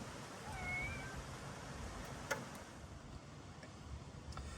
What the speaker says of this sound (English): that's my cat jumped in the car